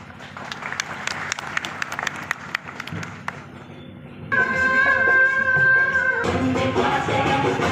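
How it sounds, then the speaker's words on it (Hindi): An audience gives scattered, crisp applause to welcome a speaker, Puspendra Kulshrestha, for about four seconds. The clapping then breaks off as loud, sustained music takes over. "तालियों के साथ उनका स्वागत करें।"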